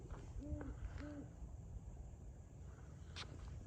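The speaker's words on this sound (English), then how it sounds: "There's an owl hooting up there" An owl hoots from up in the trees on a night with a full moon, giving two soft, distant hoots over a steady background rumble.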